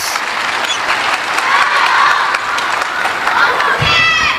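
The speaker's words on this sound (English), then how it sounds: "You can hear the crowd still shouting his name" A large arena crowd at a WTT Championships Finals table tennis match in Doha cheers, shouts and applauds loudly and continuously, with a dense clatter of clapping and raised voices throughout.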